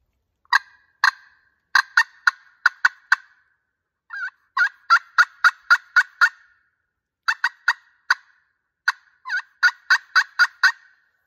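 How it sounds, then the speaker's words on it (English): Wild turkey gobbling on a mountaintop, a series of sharp, rattling gobbles in quick bursts, fairly close and clear against a silent background, with no talk. "I just got a gobble."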